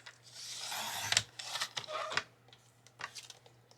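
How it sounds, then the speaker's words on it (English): Paper being trimmed by hand for a handmade masculine greeting card, heard as a few close, soft rasping cuts and rubs with quiet gaps between them, over a faint steady hum. "We need to trim this little bit."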